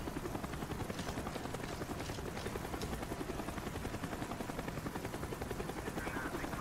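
A helicopter hovers in the Call of Duty Black Ops campaign, with its rotor giving a continuous fast, even thumping throughout, steady and fairly loud with no talk.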